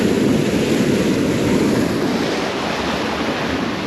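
Water gushes steadily from a rake pump into a rice field irrigation canal, a loud continuous broadband rush close to the microphone with no voices.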